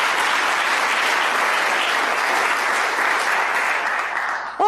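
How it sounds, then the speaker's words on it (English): Sustained applause from an audience at a Cincinnati Public Schools State of the Schools event, dense and steady throughout, fairly loud and close, fading slightly at the very end. "let's give a round of applause to our students, our most important youngsters"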